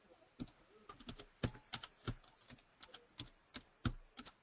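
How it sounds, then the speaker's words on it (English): Keys on a computer keyboard are tapped in irregular bursts of sharp clicks, quiet and close, with brief pauses between strokes and no talk over them. "You're typing?"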